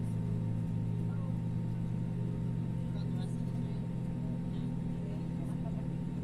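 An Airbus A320 engine starting in a flight simulator game: a steady, loud low-pitched drone with a constant tonal hum that holds evenly throughout, while someone talks over it.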